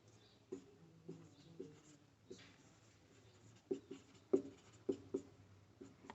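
Chalk or marker writing on a classroom board during a Class 12 physics lesson on electric potential: scattered soft strokes, then sharper clustered taps in the second half, moderately close, with no voices.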